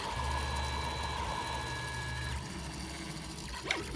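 A 3D printer builds a fidget toy, its stepper motors giving a steady mechanical whine with sustained tones that shift pitch partway through, plus a brief click near the end.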